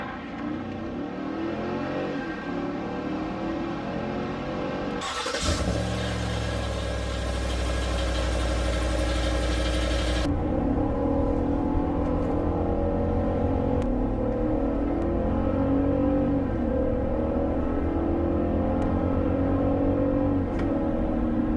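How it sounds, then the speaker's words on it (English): A 2024 Cadillac Escalade with a naturally aspirated V8 drones loudly and steadily, its engine tone shifting in pitch across abrupt segments. No one speaks. "it has a superb powertrain and engine combo. One of the last of its kind naturally aspirated V8s."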